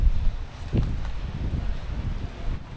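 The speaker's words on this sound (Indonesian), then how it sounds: "Nih, angin dan kabut." Steady, blustery wind buffets the microphone with a dense low roar on the foggy summit of Mount Burangrang, with no clear voices, only faint rustling under the gusts.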